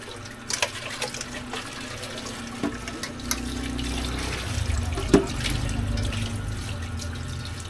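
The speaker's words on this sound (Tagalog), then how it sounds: "Pinababaran ko na lang ng tubig para madaling malinis" Tap water running into a dirty pan to soak it, a steady low rushing stream with scattered clinks and splashes, building slightly louder toward the end.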